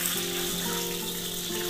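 Oil heating and frying in a wok for Chaoshan home cooking, a steady close sizzle and crackle with a faint tonal hum underneath, with no talk.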